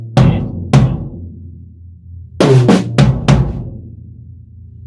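Right-hand-led paradiddle fill on a drum kit split between tom 1 and the floor tom: a pair of isolated tom hits, a pause, then a quicker cluster of four resonant tom strokes, each decaying with a low ringing boom and no voices.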